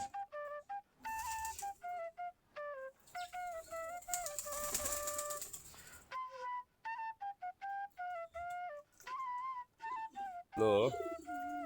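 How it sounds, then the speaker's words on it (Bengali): Several Girribaz pigeons feeding close by coo in repeated soft, warbling phrases, with a brief rustle and flutter near the end. "আমাদের দেশি গিরিবাজ কবুতর, এই যে কবুতরগুলো খাবার খাচ্ছে"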